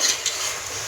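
Village goat mutton chaap sizzling steadily in a pan as it is stirred, a bright continuous hiss with faint scraping, heard up close and with no talk.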